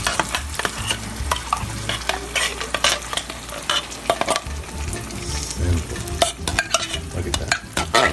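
Chef Boyardee pasta stirred in a hot pan, sizzling and frying steadily with repeated scraping stirs; a voice speaks briefly over the cooking.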